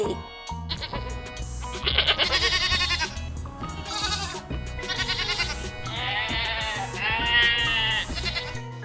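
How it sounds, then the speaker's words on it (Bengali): A run of high, wavering bleats from goat kids comes in repeated bursts, close and clear, over a faint background with a low rhythmic undertone. "ছয় ছাগল ছানা লাফিয়ে চলে"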